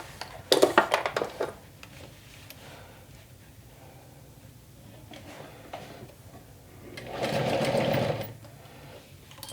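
A sewing machine back stitching a crossbody bag, heard up close in two short bursts of rapid mechanical clatter separated by a quieter pause with faint handling noises.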